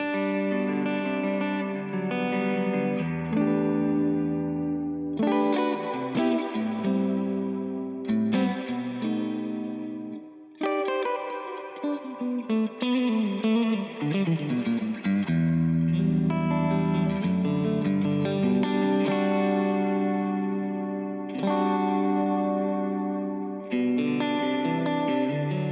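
Electric guitar through a Victory The Deputy amplifier, chords and melodic lines ringing out with a wide, lush hall-style plate reverb tail washing behind each note, no voices.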